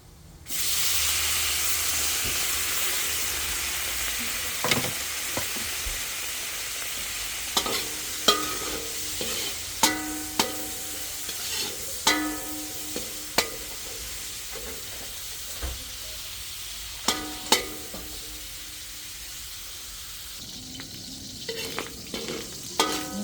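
Meat sizzles steadily in a hot pan for pinakbet, a continuous loud frying hiss punctuated by repeated sharp scraping knocks of a spatula stirring, with no talking.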